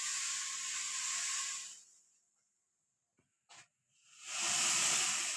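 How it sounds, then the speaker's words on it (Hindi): Guava leaf tea at a rolling boil in a pot gives a loud, steady steamy hiss that dies away into near silence with a couple of faint ticks, then swells back up. "हमारी चाय अच्छे से खौलने लगी है"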